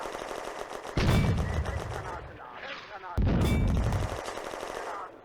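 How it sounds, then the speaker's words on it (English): A heavy machine gun fires in the Firefight wargame on the Eastern Front, in two dense bursts of rapid, loud shots separated by a short pause. "The unknown contact is a heavy machine gun."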